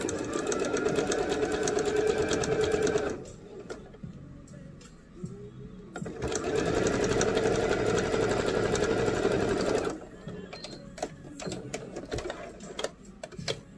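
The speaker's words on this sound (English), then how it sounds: "we're going to sew across the top of our shoulders at a 5/8 of an inch seam allowance" A sewing machine stitches the shoulder seams of a bell-sleeve shirt at a 5/8-inch seam allowance, running in two steady, fast-rattling bursts separated by a quieter pause of handling noises.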